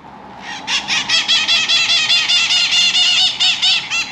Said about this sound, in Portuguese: Ah, rapaziada, tem dois papagaios ali.